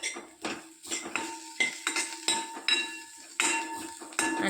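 A metal utensil scrapes and clinks against a pan in quick, irregular strokes while onions and turmeric are stir-fried in oil, loud and close with no talk.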